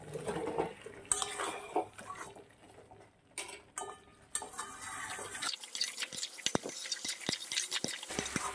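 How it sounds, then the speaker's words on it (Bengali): Fried potatoes for Bengali niramish aloo dum go into the pan with clattering utensil clinks and scrapes, followed by a livelier sizzle dotted with sharp ticks from stirring. "এবারে আমি এই ভেজে রাখা আলুগুলো দিয়ে দেবো"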